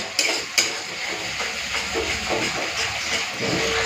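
Spice paste of ground dried chilli sizzles and fries in a pan, a steady close hiss with a couple of sharp clinks near the start and faint talk underneath.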